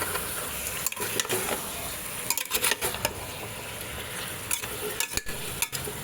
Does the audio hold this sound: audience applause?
no